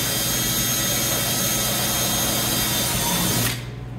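A power drill whines steadily as it bores through a plastic fender flare on an off-road KRX, a loud continuous high-pitched drone that cuts off abruptly near the end.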